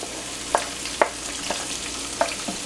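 Onions for a Tamil Nadu fish curry frying in a pan, a continuous gentle sizzle with a few sharp taps of a spoon against the pan, close and moderate, no voices.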